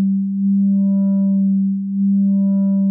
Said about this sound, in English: And you can hear the LFO acting on the filter cutoff.